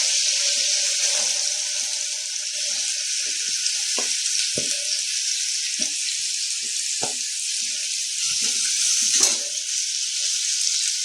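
Onion frying in a pan over medium gas heat: a steady, loud sizzle with occasional soft clinks and stirring sounds, close up and with no talk.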